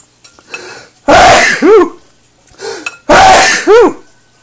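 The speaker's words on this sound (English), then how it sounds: "I'm going to sneeze with all these spices." Two loud, close sneezes, each preceded by a short breathy intake, spaced about two seconds apart, triggered by mixing spices for an all-purpose seasoning blend in a kitchen.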